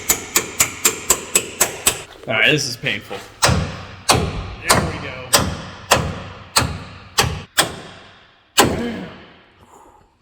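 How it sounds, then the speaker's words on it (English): A very small hammer hits a rusty bolt on a car control arm, first in a quick run of about eight sharp taps, then in slower, heavier metallic blows. Someone speaks briefly partway through. "with the smallest little hammer ever"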